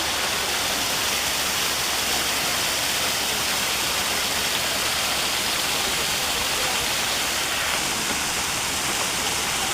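A fountain or waterfall at a water park in Rangpur roars as a loud, constant rush of falling water that fills the whole scene without a break.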